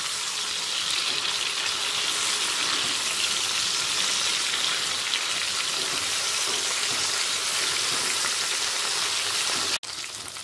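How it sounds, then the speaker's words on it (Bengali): Bata fish frying in hot oil in a pan, a steady dense sizzle running loud and unbroken for about ten seconds with a brief dip near the end. "মাছগুলো ভাজা হয়ে গেছে"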